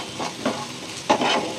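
Green chillies fry in a pan, a brief soft sizzle with a couple of light stirring scrapes.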